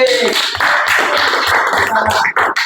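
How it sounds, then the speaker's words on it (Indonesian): Classroom applause for a student group that has just assembled a working computer, a handful of uneven claps under a voice talking, fairly close and brief. "Tepuk tangan buat kelompok C."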